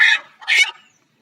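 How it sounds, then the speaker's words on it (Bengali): A black tiger breed desi chicken, handled during a Ranikhet vaccination, gives two loud, harsh squawks very close by, with a short gap between them and silence after. "আমাদের কালো টাইগার মুরগি, কালো মুরগি।"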